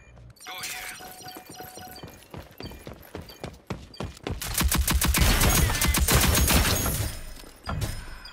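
Rapid bursts of automatic gunfire in the video game Rogue Company, starting as scattered shots and building to a loud, sustained volley, with a brief voice heard under it.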